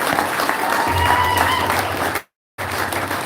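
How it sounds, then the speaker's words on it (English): A convention panel audience at a fan expo breaks into loud, steady applause that goes on for a couple of seconds. It cuts off abruptly, then resumes briefly. "So round of applause for Rick."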